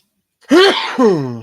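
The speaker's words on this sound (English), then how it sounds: "I'm going to sneeze." A single sharp sneeze bursts out after a moment of silence, followed by a short vocal trailing sound.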